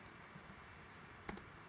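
A few light keystrokes click on a computer keyboard, faint and close, with a quick pair of taps near the end over a low room hum.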